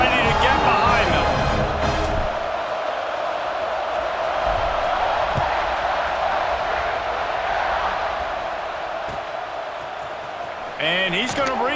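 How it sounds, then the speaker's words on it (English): A football stadium crowd roars steadily right after a 44-yard touchdown pass, just before the kickoff, with broad, sustained cheering that stays loud for the whole stretch and thins a little near the end. A commentator's voice comes through at the start and end. "this crowd now ready to get behind them"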